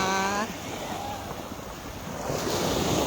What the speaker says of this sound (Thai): ตอนนี้เราอยู่ที่ทะเลจังหวัดระยองจ้า